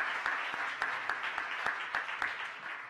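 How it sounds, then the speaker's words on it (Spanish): Applause from a conference audience after a panel discussion on restructuring and insolvency strategies, a steady wash of many hands clapping with sharper individual claps standing out, filling the room at moderate volume. "muchísimas gracias a este interesantísimo panel, un aplauso"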